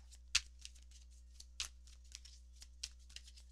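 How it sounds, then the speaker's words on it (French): Tarot cards being reshuffled by hand, a series of soft riffling bursts and light flicks that recur irregularly, quiet and close, over a low steady hum, with no talking. "Je vais rebrasser les cartes."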